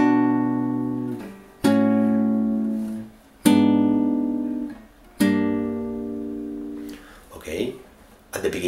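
A fingerstyle guitar in drop D tuning plays the opening measures of a song from Toy Story 2, with ringing chords struck about every second and a half and left to sustain, some string noise at the end.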